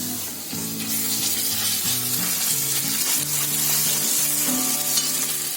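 Ginger-garlic paste sizzles loudly with onion in hot oil, a dense, continuous close-up frying hiss with a faint tune running underneath.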